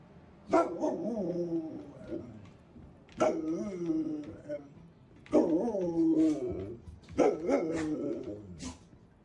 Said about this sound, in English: And Katie, my puppy, would like to say thank you.